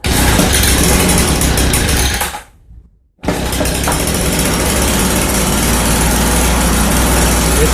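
An Echo PB 2100 leaf blower with a newly replaced carburetor runs loud and steady with a high two-stroke whine, cuts out for under a second, then restarts and holds the same strong roar to the end.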